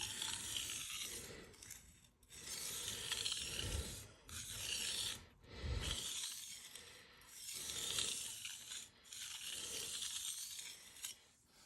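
Repeated back-and-forth blade strokes rasp across a King 300 splash-and-go water stone, a steady gritty scraping in several long runs with short pauses between passes, close and fairly quiet.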